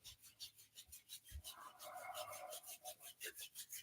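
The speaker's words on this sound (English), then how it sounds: "Start to rub your palms together." Palms rubbing together in a quiet yoga session, a steady rhythmic rasping swish that repeats quickly and closely, with a brief low thump partway through and no talking over it.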